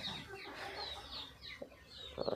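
Lohmann Brown hens in a coop cluck and croon in a continuous, overlapping chorus while laying eggs, close by and moderately loud, with a few sharper clucks toward the end.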